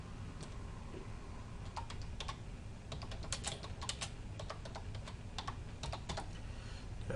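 A computer keyboard is typed on in quick, irregular bursts of light key clicks over a faint steady room hum, with no one speaking.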